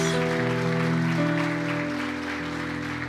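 A church congregation applauds, a steady broadband clatter running under sustained keyboard or organ chords that hold throughout and fade slightly toward the end.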